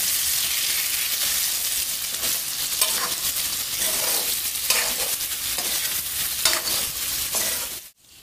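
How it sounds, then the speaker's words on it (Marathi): Ridge gourd and masala fry in a pan with a steady, close sizzle, while spoon strokes turn them over and scrape throughout. The sound cuts off sharply at the end. "हे सगळं त्याच्यामध्ये थोडं खाली वर करून परतून घेऊयात"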